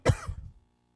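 A single short cough followed by a quick throat clearing from a man at a church service, close and abrupt, over in under a second before silence.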